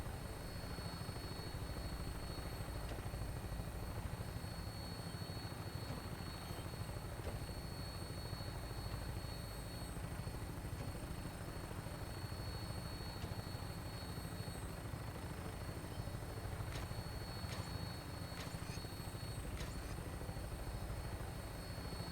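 Helicopter in the Fallout 4 video game flying steadily, a continuous rotor and engine drone running unbroken with no gaps and no talk.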